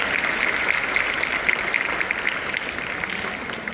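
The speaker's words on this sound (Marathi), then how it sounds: "म्हणून एक वेळेस त्यांच्यासाठी टाळ्यांचा गजर झाला पाहिजे." Steady applause from a crowd, an even wash of clapping that carries on for a few seconds at moderate loudness.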